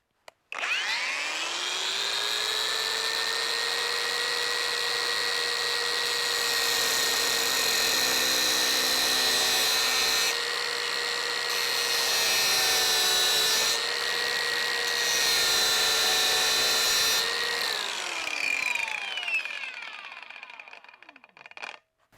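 Litheli U20 cordless angle grinder fitted with a fresh wheel spins up and runs steadily for about seventeen seconds, a loud high whine with slight pitch shifts, then winds down.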